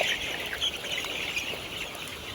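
Layer chicken chicks cheeping in a dense, continuous chorus of high, overlapping peeps at a steady level, with no talking.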